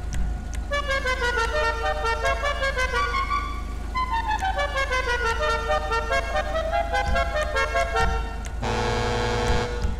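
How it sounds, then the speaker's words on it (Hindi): A heavy truck-style air horn fitted to a modified Mahindra Bolero in the GTA 5 driving game blares in long melodic toots, sliding up and down over a steady engine hum, ending with a sustained blast. "ट्रक वाला हॉर्न लगवाना है मुझे इसमें"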